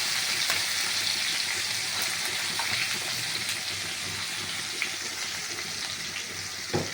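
Onion paste fries in oil for a banana blossom kofta gravy, a steady, bright sizzle hissing evenly close by with a couple of faint soft knocks.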